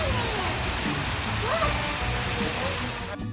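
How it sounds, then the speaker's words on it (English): A small waterfall behind a picnic area and bathroom at a Georgia roadside attraction, a steady broadband rushing wash of falling water, loud and continuous throughout. "Then we have a nice little waterfall here behind the"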